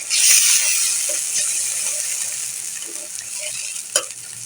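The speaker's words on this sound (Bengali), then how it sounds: "এখন দিয়ে দিচ্ছি আদা রসুন পেস্ট," Ginger garlic paste frying with onions in fish-frying oil, a steady broad sizzle under scattered scrapes and clinks of a spoon stirring the pan, one sharper knock near the end.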